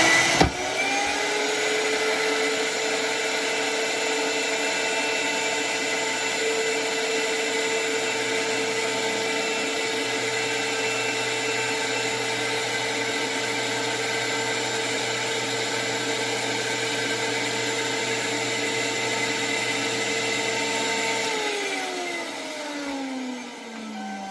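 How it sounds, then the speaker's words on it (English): A vacuum former's vacuum runs steadily while an Essix clear plastic dental retainer is formed, a loud continuous whine with a low hum that carries on alone before winding down near the end. "Turn the vacuum on."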